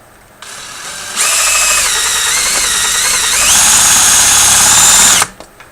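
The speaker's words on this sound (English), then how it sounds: "I noticed this drill's wobbling all over the place." A loud power drill spins up and runs steadily for about four seconds, its pitch shifting as it bites into aluminum, then winds down.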